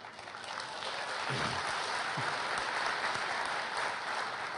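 Conference audience applause at Lotusphere 2011, a full, even burst of many hands clapping that swells after the first second and holds steady, with no talk over it.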